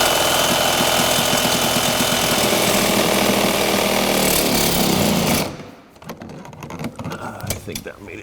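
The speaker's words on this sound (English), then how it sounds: "I've opened this up so I can get in there with the Sawzall blade and cut it." A reciprocating saw cuts through the rear strut of a 2005 Honda Civic, a loud, rapid buzzing rattle up close that stops abruptly after about five seconds, followed by faint clanks and movement.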